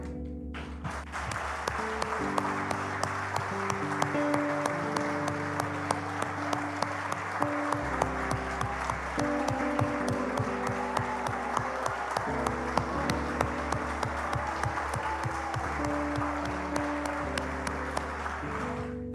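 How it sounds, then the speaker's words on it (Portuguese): A church congregation claps steadily in rhythm over sustained keyboard music at a Sunday morning service, the claps loud and even throughout with little talk. "Vamos dar um louvor de palmas para Ele."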